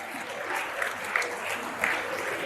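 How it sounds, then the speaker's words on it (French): Comedy show audience applauding in a hall, steady dense clapping held at an even level with a few sharper claps standing out. "Non, applaudissez pour vous-même."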